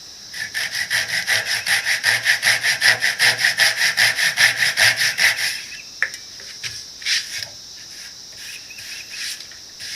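Flush-cutting plug saw held flat, sawing off a protruding wooden plug: a fast, even run of rasping strokes for about five seconds, close and clear, followed by a few faint scrapes and quiet.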